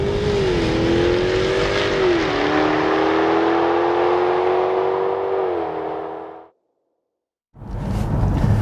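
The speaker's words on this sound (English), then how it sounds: "So this is the 5-litre V8 from Jaguar, a stonking motor, incredibly well developed" Jaguar F-Type's 5-litre V8 engine revs loudly up close, a sustained throaty roar with slight pitch dips that drops into brief silence, then surges back.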